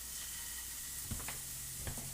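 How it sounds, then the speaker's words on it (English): Turkey meatballs fry in a skillet with a steady, close sizzle throughout and a couple of brief pops or stirring knocks. "The skillet's going. You can hear it sizzle."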